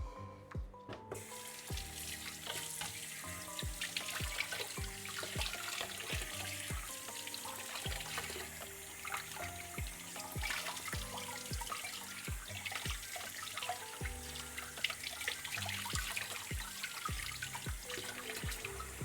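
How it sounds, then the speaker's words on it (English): Tap water runs steadily into a sink to rinse a citrus press, a continuous splashing flow broken by irregular clinks and knocks of the press being handled. "Gonna quickly rinse off my citrus press."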